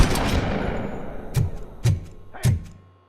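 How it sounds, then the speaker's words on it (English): Gunfire in the video game RoboCop: Rogue City on Xbox: three sharp, fairly close shots spaced about half a second apart, following a dense burst of noisy action. "Hey, am I hearing gunshots?"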